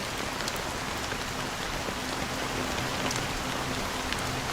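Steady, dense rainfall in the Honkai Star Rail game world, an even wash of drops pattering on surfaces with no pauses and no thunder.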